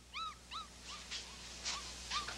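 A puppy whimpers close by in a run of five or six short, high, rising-and-falling whines, with soft shuffling noises between them.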